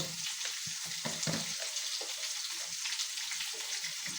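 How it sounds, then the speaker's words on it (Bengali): Beetroot and radish fry in a pan with a steady, soft sizzle, broken by occasional stirring scrapes and light clatter throughout. "এই দুটো দিয়ে আগে ভালোভাবে ভেজে নিব।"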